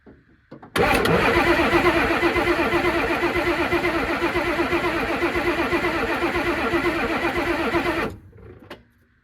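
A 19-year-dormant Ford F-350 diesel cranks hard and steadily for about seven seconds, a loud rhythmic starter churn with chugging compression pulses that never catches, then cuts off into silence.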